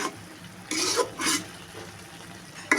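A bean and taki fish mash sizzles in a pan while a spatula stirs it, giving two or three loud scraping, frying bursts over a low steady sizzle.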